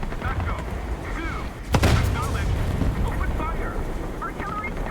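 Artillery strike in the War Thunder game: one sharp, loud blast lands near the middle, then a rumbling tail over a steady background of engine and wind noise.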